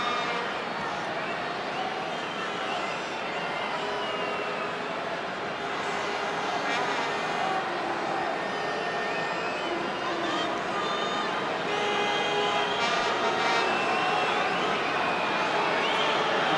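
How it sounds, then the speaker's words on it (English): A Welsh rugby crowd roars continuously through a test match against South Africa, a dense, loud wash of cheering and shouting from a distance, with a commentator's voice running over it. "It's not exactly quiet from the Welsh crowd."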